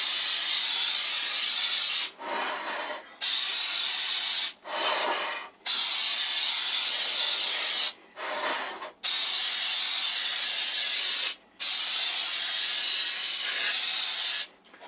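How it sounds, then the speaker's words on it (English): A can of oil-and-flour baking spray hisses in several long, loud bursts onto a cake pan, each separated by a short pause, close to the listener. "I use this Baker's Joy, which actually is oil and flour all in a spray can"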